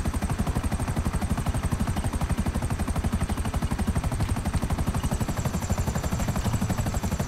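A fast helicopter in GTA 5 Online flies steadily, its rotor beating in a loud, rapid, continuous chop that stays close and even throughout.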